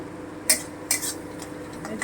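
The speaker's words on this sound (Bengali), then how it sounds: "হালকা একটু ভেজে নিচ্ছি" Onion paste and garlic frying in a pan as a utensil scrapes it around, with two sharp clinks and a softer scrape over a quiet, faint sizzle.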